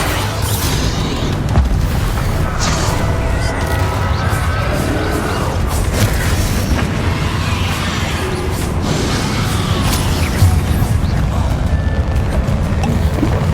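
Booming, crashing spell explosions from the Bombarda spell in Hogwarts Legacy, a dense, continuous barrage of blasts and impacts with no pause, loud and close throughout.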